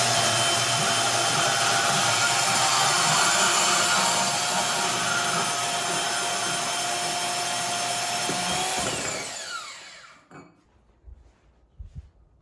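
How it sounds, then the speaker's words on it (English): A bandsaw cuts through a long tube exhaust header pipe for a C5 Corvette with a loud, steady grinding whine that finishes the cut and winds down, followed by a few faint clunks. "I'm just gonna use my bandsaw, cut that off, and then we should be able to fit them up."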